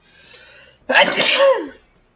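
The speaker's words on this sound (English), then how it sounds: "Oh, I gotta sneeze." A single loud sneeze from a streamer playing the card game Balatro, bursting out after a quiet breathy lead-in and trailing off, alone with no talk over it.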